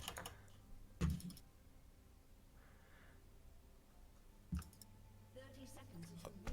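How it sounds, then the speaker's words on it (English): Computer keyboard typing during a League of Legends coaching session, with faint, scattered key clicks and a couple of louder clacks over low background hum. "You use both hands to type."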